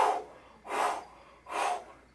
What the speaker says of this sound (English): always breathe in, breathe out.